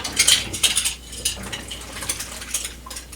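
Glass canning jars clink and knock together in a sink as they are washed, with a cluster of bright chinks at first, then scattered lighter taps over faint background water.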